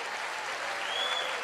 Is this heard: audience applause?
yes